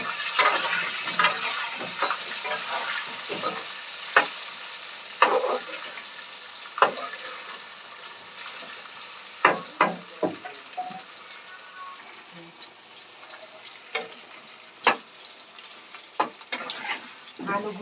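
Potato pieces seasoned with salt and turmeric sizzle steadily in hot oil in a pan, with repeated sharp scraping and stirring clatters from a spatula throughout; close and moderately loud, with occasional faint talk.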